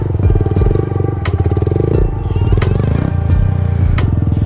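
A motorcycle engine bogs and sputters close by during a circle wheelie, its uneven, throbbing revs sagging as if about to stall, with brief louder bursts as the throttle catches.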